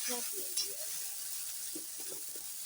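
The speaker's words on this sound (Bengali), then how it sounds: "মশলাটা এখন আমি ভালো করে কষিয়ে নিই" A spice paste with turmeric and salt sautés in a pan, a soft steady sizzle with occasional stirring under faint background voice.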